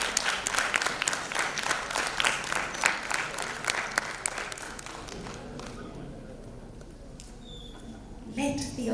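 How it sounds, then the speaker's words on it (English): Audience applause at the close of a literary festival session with author and mythologist Sharad Bindal, dense sustained clapping that gradually thins and fades, then a brief renewed burst near the end. "Let the applause continue."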